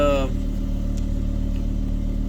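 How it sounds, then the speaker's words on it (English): A Volvo V70 II engine with an accelerator pedal sensor fault idles steadily with a low, even hum, close by; a brief voice is heard at the very start. "I turned the engine on"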